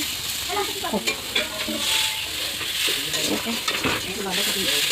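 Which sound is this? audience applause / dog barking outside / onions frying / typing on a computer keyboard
onions frying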